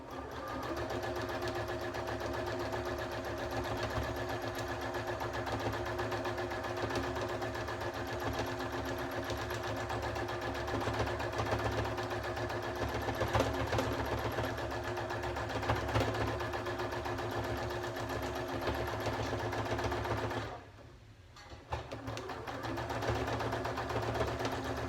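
Up close, a sewing machine runs continuously for free-motion quilting with the foot pedal held down. The steady, even whir goes on for about twenty seconds, stops briefly, then starts again, with no voices.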